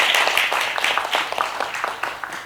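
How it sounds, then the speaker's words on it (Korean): An audience claps at the close of a forum on military service reform hosted by a youth committee: dense, steady applause of many hands, fairly loud and sustained throughout, with a faint murmur of voices mixed in. "오늘 주관하신 청년위원회 여러분들께 박수 한번 크게 부탁드립니다"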